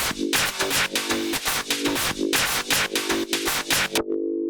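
A sustained droning feedback tone from Ableton Roar, modulated by an envelope follower, pulses in strength along with busy polyrhythmic drum hits, then rings on alone briefly after the beat cuts out.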